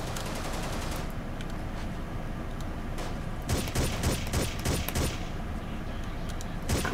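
Rapid bursts of automatic gunfire in Ghost Recon crackle in clustered volleys over a steady rumbling game background, getting denser toward the middle and ending with one last burst.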